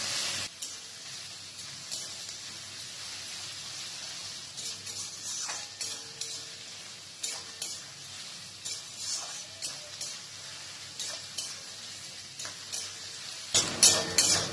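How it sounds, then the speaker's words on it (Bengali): Onions fry in a pan over a high flame with a soft, constant sizzle, while a utensil scrapes and stirs in irregular taps that grow louder toward the end. "এই স্টেজে ফ্লেমটাকে হাই রেখে পেঁয়াজটাকে ভেজে নেব।"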